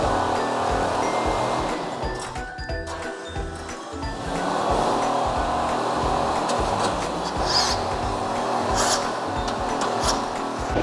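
Small lawnmower engine running steadily next door during repair work, a continuous broad mechanical drone at moderate distance with no talk over it.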